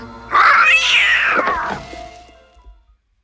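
A cat in the 1981 horror comedy film Saturday the 14th gives one loud, drawn-out meow that rises and falls, fading off over the last second without any talk.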